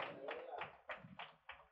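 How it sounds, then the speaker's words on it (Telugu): A church congregation clapping to praise God, about six evenly spaced claps in a steady rhythm, fairly faint and roomy, with some voices mixed in. "చప్పట్లు కొట్టి దేవుని మహిమపరచండి"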